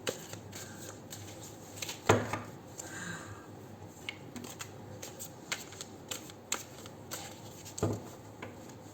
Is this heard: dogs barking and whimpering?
no